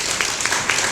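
Audience applause at a policy forum on power wheelchair support for people with severe disabilities, a steady dense wash of clapping from a room of listeners filling the short moment without talk.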